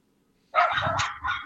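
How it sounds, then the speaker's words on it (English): Several dogs belonging to a neighbor bark in a short, loud burst after a moment of quiet, with overlapping yaps and a second outburst close behind. "Why are the dogs barking?"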